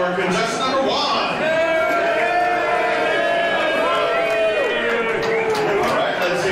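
A crowd at a Mr. Bare Chest 2012 contest whoops and cheers for the first contestant, a dense roar of many voices with shouts rising and falling throughout.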